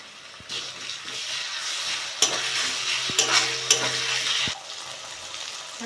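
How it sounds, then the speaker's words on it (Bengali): Prawns fried with a spoonful of ginger garlic paste sizzle steadily in a pan, a continuous bright crackle with a few sharp stirring clatters, loud and close, no talking. "চিংড়ি মাছটা ভেজে নিয়েছি আদা রসুন বাটা এক চামচ দিয়ে দেবো"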